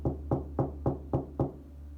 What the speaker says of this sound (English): I finally heard a knock on my door